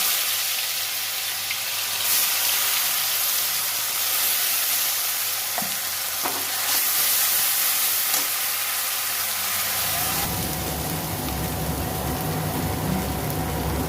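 Ginger, garlic and onion paste hits hot oil in a wok and sizzles loudly and steadily, the frying growing rougher and denser toward the end, with no talking.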